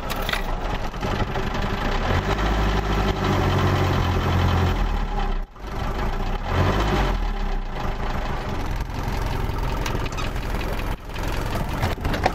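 A cold diesel engine, warmed beforehand with a heat gun, runs with a loud, steady knocking idle, its low clatter continuous throughout apart from two brief dips.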